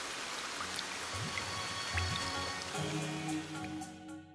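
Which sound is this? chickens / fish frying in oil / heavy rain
heavy rain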